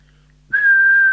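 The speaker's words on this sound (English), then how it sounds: "And then do a whistle test." A person whistles into an Intek H520+ CB handheld radio during a service adjustment. A single sustained, steady tone starts abruptly after a short quiet pause and holds loud and clean to the end.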